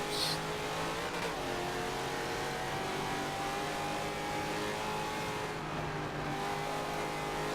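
A race car in Forza Motorsport 7 accelerates hard out of a turn, its engine a loud, sustained roar that holds steady throughout.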